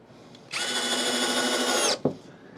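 A Hyper Tough 12-volt cordless drill drives a drywall screw in one steady, loud whine lasting about a second and a half, then cuts off with a short click.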